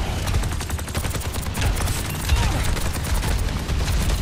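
Rapid, dense gunfire in the video game Overwatch 2, a continuous stream of close, loud shots with heavy low booms layered over one another.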